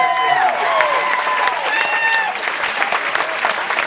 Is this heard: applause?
yes